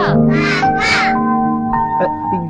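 A crow caws loudly and close by, several harsh calls in quick succession, followed by quieter rasping notes.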